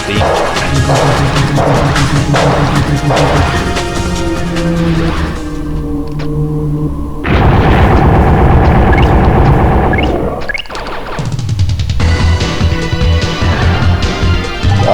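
Explosions destroy turrets in the video game Gungage, heavy crashing blasts and throbbing booms in a loud, continuous run with a brief lull mid-way, no talking.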